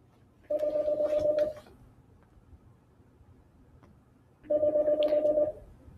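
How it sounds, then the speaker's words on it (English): A telephone rings in two loud electronic bursts about a second long each, separated by a few seconds of quiet room tone, with no voices. "My phone rang."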